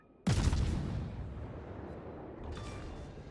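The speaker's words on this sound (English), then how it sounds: "it looks like the Yugumu just detonated" A Yugumo destroyer detonates in World of Warships: one sudden, heavy boom that rolls off into a long fading rumble, with a faint secondary crackle near the end.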